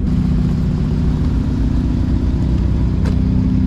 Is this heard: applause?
no